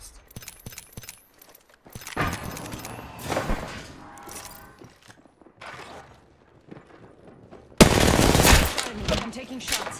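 Rapid gunfire in the video game Apex Legends, with quick bursts early, scattered shots and mechanical clatter through the middle, then a loud sustained volley near the end.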